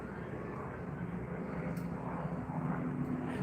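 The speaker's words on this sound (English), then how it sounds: "No, they're landing on Heathrow." Airplane landing at Heathrow in London, a steady, moderately distant jet engine roar that holds evenly throughout with no speech over it.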